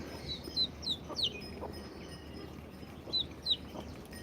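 Several short clucks and chirpy bird calls come in scattered bursts over a steady outdoor background, fairly close, with no one talking.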